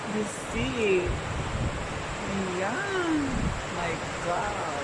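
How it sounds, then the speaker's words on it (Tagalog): Strong wind gusting during heavy snowfall in Kanagawa, Japan, at night, a steady rushing roar that swells and eases while people talk over it. "The wind is so strong."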